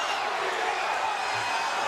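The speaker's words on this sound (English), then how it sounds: "Crowd is on their feet here in Lake Charles, Louisiana." UFC 22 arena crowd in Lake Charles, Louisiana on its feet, a dense steady roar filling the whole moment, loud and unbroken.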